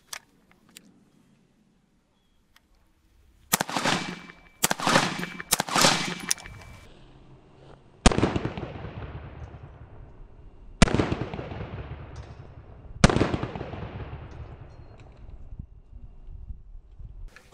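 Rifle firing 62-grain 5.56 green tip rounds at level 4 body armor outdoors: after a quiet start, a quick burst of closely spaced loud cracks, then three single shots a few seconds apart, each ringing out with a long echoing tail.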